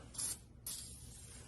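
Two short bursts of soapy water sprayed onto the wheels of a 1966 Plymouth, each a quick hiss, close by and fairly quiet, with a brief gap between them.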